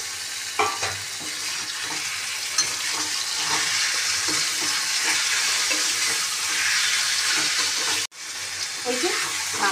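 Marinated boneless chicken frying in a pan, a steady loud sizzle that stays constant throughout, with stirring scrapes and a brief drop near the end.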